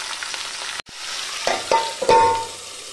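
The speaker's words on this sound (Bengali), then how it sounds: "তেলটাও গরম হয়ে গেছে, এবার আমি সবজিগুলোকে এর মধ্যে একে একে দিয়ে দিচ্ছি।" Vegetables being fried in hot oil, a steady sizzle broken by a brief silence, then louder bursts and clinks as pieces are added and stirred nearby.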